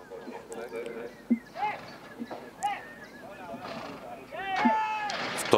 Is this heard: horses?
yes